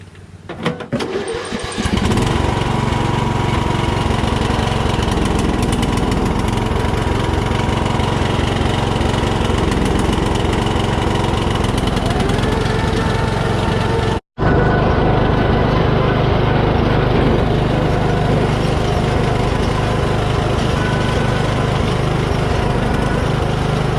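A Troy-Bilt lawn mower tractor, freshly fitted with a new drive belt and a recharged battery, cranks and catches, then runs at a loud, steady engine drone close by. The drone cuts out very briefly partway through, with no talking.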